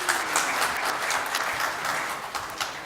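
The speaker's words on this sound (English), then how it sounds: "let's give them a big round of applause." Loud, enthusiastic clapping from a conference crowd at WordCamp Kathmandu, continuous and even throughout the short stretch.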